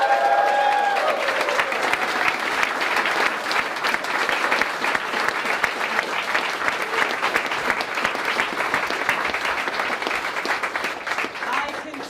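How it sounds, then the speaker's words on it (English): An audience at a town hall event in New York applauds, a loud, sustained wash of clapping from a large crowd that holds steady for the whole stretch and fades slightly near the end. "Please give them a round of applause."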